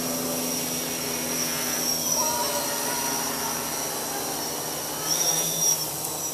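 A small drone without a camera flies nearby, giving a steady whining buzz with a high tonal hum that stays constant and swells slightly as it passes closer.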